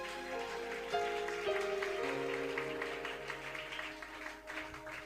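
A church audience applauds the Lord Jesus during a seminar, with steady, dense clapping held under sustained organ or keyboard chords over several seconds.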